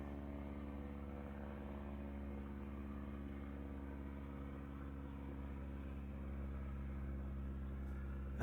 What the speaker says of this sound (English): It was a small plane, but I could hear.